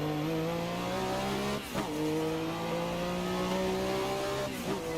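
Race car engine from a racing video game with a manual gearbox, played on a D-BOX Gen3 4250i motion rig: a loud sustained high-revving drone that breaks briefly at each gear shift, continuous and close.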